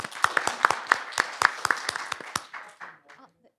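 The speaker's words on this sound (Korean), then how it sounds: "박수로" A short burst of audience applause at a KAIST chemistry lecture, a dozen or so distinct claps fading out after about two and a half seconds, fairly close and alone.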